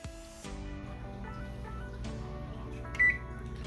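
An oven's control panel gives electronic beeps while it is being set, with a couple of sustained tonal chimes and a brief brighter beep near the end, close and clear in a quiet kitchen.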